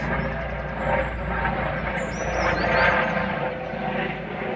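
A low, broad engine drone swells and fades overhead, like a helicopter passing at a distance, steady without voices.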